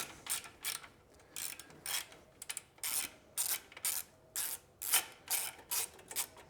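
A socket wrench ratchet clicks in quick, rhythmic bursts while loosening a 10mm bolt on the stock exhaust of a 2024 Triumph Bonneville Bobber motorcycle. There are about a dozen even strokes, close and clear, with no talk.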